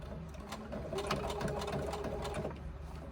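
A sewing machine runs steadily and close while stitching a bulky curve on a crossbody bag, with a continuous rapid mechanical whir and no pauses.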